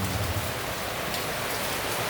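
A loud, unbroken downpour of heavy rain, a thick steady roar of drops with a low rumble underneath.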